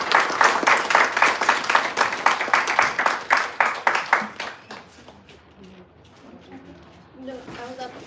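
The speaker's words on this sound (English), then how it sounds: "Everyone give him a round of applause." A conference audience at a hackathon kickoff applauds a keynote speaker from Google DeepMind, with loud sustained clapping for about four seconds that then fades out, and voices chatter and murmur underneath as it dies away.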